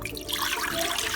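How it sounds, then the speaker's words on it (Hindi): Water pours off mutton in a pressure cooker, a short steady rush of draining liquid, close and alone. "इसमें से हम पानी गुजार लेंगे"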